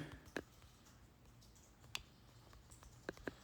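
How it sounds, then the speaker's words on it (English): Typing on a computer keyboard: a handful of faint, sharp key clicks spaced irregularly in a quiet room, with no one speaking. "I'm just typing out what I'm doing so everyone knows."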